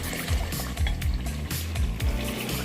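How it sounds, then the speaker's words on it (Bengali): Mutton kasha sizzles and fries in a pan while being stirred in short repeated strokes, a steady close crackle with rhythmic scraping pulses and no talking. "আমরা একটু ঘাঁটতে থাকবো যাতে আমাদের তলায় না লেগে যায়, তার জন্য অল্প করে অল্প অল্প আমরা নাড়তে থাকবো"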